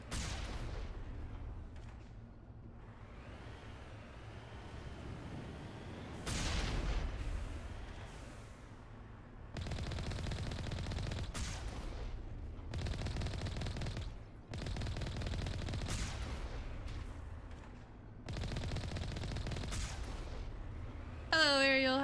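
Rockets and heavy weapons firing in the video game Mass Effect 1, loud bursts of gunfire and blasts in repeated blocks separated by short lulls.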